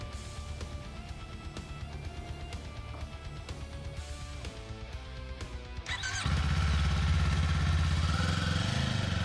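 A 2024 Kawasaki Eliminator 450 idles with a light mechanical patter, then its engine jumps to a loud, steady drone as the motorcycle pulls away and sets off on a ride.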